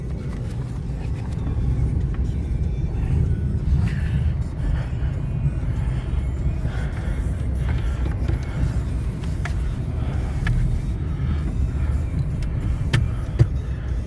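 A 1957 Chevy 210 engine idles after a cold start, a steady low rumble running continuously and evenly at moderate loudness.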